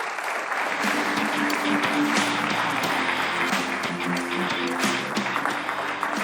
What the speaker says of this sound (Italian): facciamo un bel applauso agli arbitri.